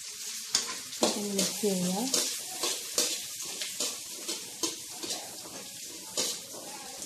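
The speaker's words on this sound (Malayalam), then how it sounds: "ഈ സവാളയും ഈ കാപ്സിക്കും ഒന്ന് ഒരുപാട് കുഴയണ്ട ജസ്റ്റ് ഒന്ന് ഇടയാ മതി" Onion and capsicum sizzle steadily in a hot pan while a spoon stirs and scrapes with repeated soft clacks, and a person speaks briefly over the frying.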